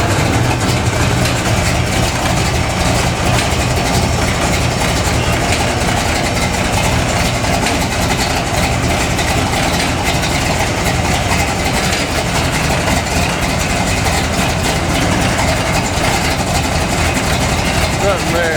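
Modified 1971 AMC Gremlin with a big-block Chevy 496 and tunnel ram idling steadily, a loud low rumble filling the whole stretch with no pauses, with occasional voices faintly mixed in.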